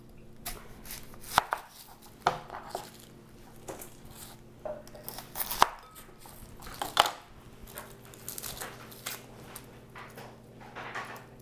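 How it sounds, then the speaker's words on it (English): Onions sliced thin with a knife on a cutting board while making chicken fajitas: irregular, fairly quiet knife taps and thuds, close by, with no talking. "cut the onions thin for this since they seem to brown up a lot nicer."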